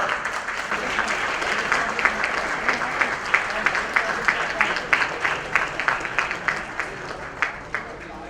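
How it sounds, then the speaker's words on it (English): Lively applause from an audience at an app launch event for a furnishings company, cheering its leaders; dense clapping with rhythmic accents running throughout, voices mixed faintly beneath. "Give me an applause for our leaders."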